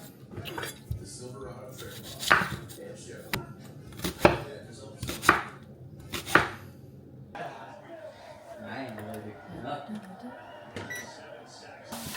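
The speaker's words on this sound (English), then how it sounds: "So I hate cutting onion." Knife chopping an onion on a cutting board in a home kitchen, a few sharp, heavy strokes early on, then lighter, quicker cuts, with someone talking over parts of it.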